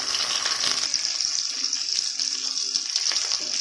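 Onions and tomatoes sauté in a hot pan in a home kitchen, giving a steady, close hiss and sizzle with faint stirring knocks and no talking.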